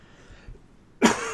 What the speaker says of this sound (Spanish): hay un ataque de tos